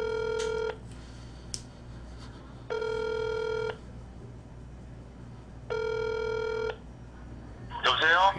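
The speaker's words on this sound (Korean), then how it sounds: "봉매투한테 전화한다." Three long, steady telephone tones sound at even intervals, each about a second long, separated by quiet gaps, with a short burst of speech at the end.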